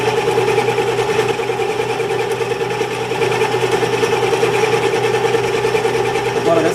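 A metal lathe drills a pilot hole into a cast workpiece, producing a steady, loud mechanical whine and hum that holds constant throughout with little variation.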